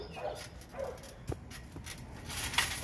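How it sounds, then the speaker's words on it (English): Dogs next door barking in the distance, a few faint scattered yips and barks spread across the moment against a quiet indoor background, with no one speaking. "Even the dogs next door are starting to get lit."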